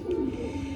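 A single pigeon, a gifted bird, gives a brief low coo at close range against a quiet background.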